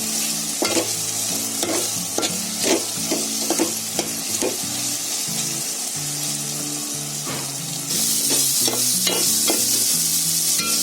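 Tomato and onion masala for chicken dal gosht cooking down in a pan, stirred and mashed with repeated scraping strokes over a steady close sizzle that grows brighter toward the end.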